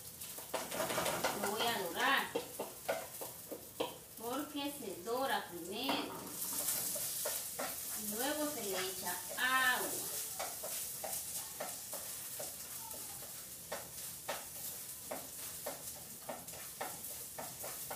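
Rice tipped into a pot for homemade chicken soup and stirred, giving scraping, rustling strokes with a sizzling hiss throughout, while someone talks over the first half.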